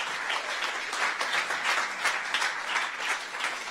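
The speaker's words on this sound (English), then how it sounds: "So now I want to have an applause for Tobias" Audience at a tech meetup gives sustained applause, a steady dense patter of many hands clapping at moderate loudness, heard alone without speech.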